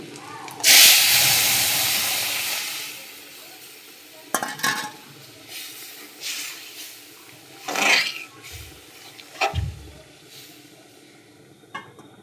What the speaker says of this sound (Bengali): এবার আমি ডালটাকে দিয়ে দেব ফোড়নে।